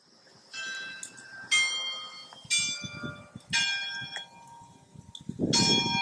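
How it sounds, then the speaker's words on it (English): A church bell rings out repeatedly at a steady pace in an outdoor setting, each strike leaving a bright, lingering tone, with soft background noise underneath. "Hopefully, this beautiful bell sounding from the church."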